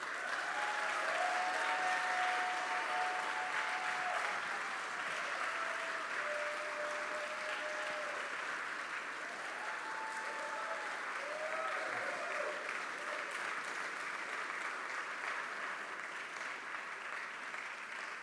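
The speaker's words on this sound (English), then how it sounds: "Can we please give them a round of applause?" Steady audience applause at a film festival awards presentation fills the whole stretch, a dense even patter of many hands, moderately distant and unbroken with no voices on top.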